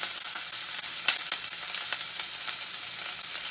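Chopped onion sizzles in about two tablespoons of preheated oil over medium heat, a steady close hiss with faint crackles and pops for the whole stretch, no voices.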